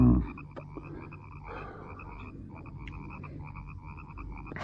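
A chorus of frogs croaks from marshes, with steady overlapping trills and chirps at a moderate distance over a low rumbling background.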